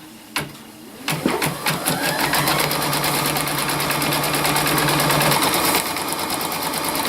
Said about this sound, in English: the machine's going to stitch out a placement stitch for us to lay our batting for our quilting in the hoop